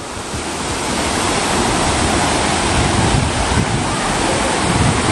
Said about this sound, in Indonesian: Langsung mengalir dari air terjunnya airnya ke bawah.